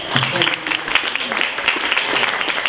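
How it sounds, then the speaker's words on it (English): An audience at a Kyani Super Saturday event applauds, with close, loud, dense clapping throughout and a few voices over it. "Give her a round of applause."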